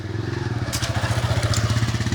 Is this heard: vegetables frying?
no